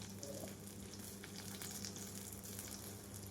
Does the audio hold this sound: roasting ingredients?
yes